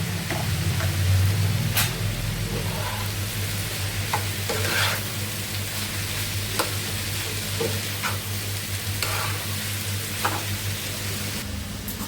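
Bitter gourd frying in a pan with green chilli, onion and a little turmeric, giving a constant close sizzle punctuated by repeated sharp scrapes of a spatula, with no speech.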